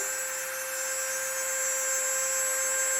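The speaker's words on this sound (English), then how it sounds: "You can see the drilling is going on right now. I'm making my nice little hole." A steady, high-pitched whine of a small drill boring a hole in a stone cabochon under water, grinding continuously, with a constant electric hum and no pauses.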